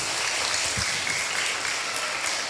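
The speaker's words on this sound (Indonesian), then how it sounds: "tepuk tangan bagi Tuhan Yesus" A large church congregation at a Sunday school anniversary and Easter celebration claps together, a dense, even wash of applause that continues steadily throughout.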